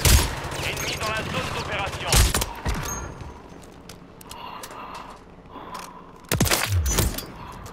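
Gunfire in Call of Duty, sharp bursts of shots near the start and again toward the end, with quieter game ambience and a voice in between.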